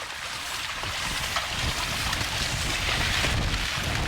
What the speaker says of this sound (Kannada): ತುಂಬ ಗಾಳಿ ಇದೆ ಇಲ್ಲಿ.